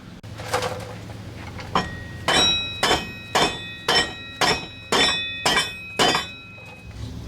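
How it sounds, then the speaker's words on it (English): About eight sharp knocks of a rubber mallet on the end of a rear axle of a 2012 Polaris Trail Boss 330 ATV, evenly spaced and close, with a short ringing tone after each strike. "I'm going to beat this end of the axle with a rubber mallet hammer"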